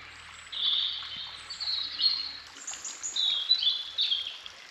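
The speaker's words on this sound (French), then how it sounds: "on entend les petits oiseaux que vous entendez" Small birds sing outdoors along a calm Brittany path in a forest of humid ferns, with bright, varied chirping phrases and trills that overlap at moderate distance over a quiet background, with no talking.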